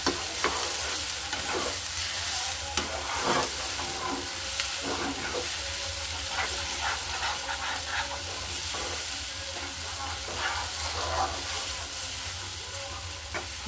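Mashed green peas frying with asafoetida in a hot pan give a steady close sizzle and hiss, with repeated scraping stirs from a spatula throughout and no voices.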